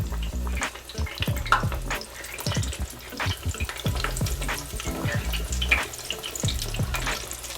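Chicken breasts fry in a Farberware 4-litre deep fryer, the hot oil bubbling and crackling loudly and continuously with busy popping spatters close by.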